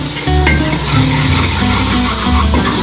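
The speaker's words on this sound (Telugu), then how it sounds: "ఇవన్నీ కలిపి బాగా వేయించుకుని" Crab curry with chili powder and garam masala, Godavari style, is stirred and fried in a pan, giving a loud, steady sizzle with scraping stirring strokes throughout.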